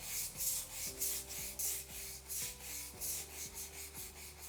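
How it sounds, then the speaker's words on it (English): A stiff deck scrub brush working tyre marks off a warehouse floor, rhythmic back-and-forth rasping strokes roughly twice a second, close and steady with no talking. "Then we've got a deck scrub. So the deck scrub is to scrub all this area"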